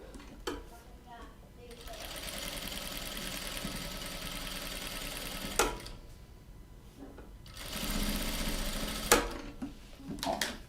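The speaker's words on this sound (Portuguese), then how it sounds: "eu marquei aqui 5 centímetros e vou passar aqui uma costura" A sewing machine stitches fabric for a men's bag in two sustained runs of rapid mechanical whirring. Pauses and clunks come between the runs, and a quiet voice talks in the gaps.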